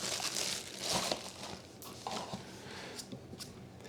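Crinkling plastic bag holding a camera battery charger rustles up close in uneven bursts, soft and papery, with brief pauses between handlings.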